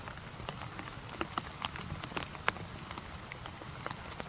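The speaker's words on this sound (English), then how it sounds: "Rain's come in again." Steady rain patters on a tent at a spring overnight campsite, a soft continuous hiss with scattered nearby drop ticks, fairly quiet and alone with no talking.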